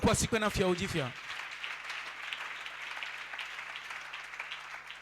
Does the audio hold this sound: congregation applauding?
yes